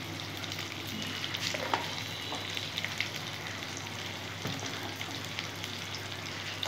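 Spices fry in hot oil for a kofta curry, giving a continuous crackling sizzle with scattered pops and light stirring scrapes, close up and steady throughout with no voices.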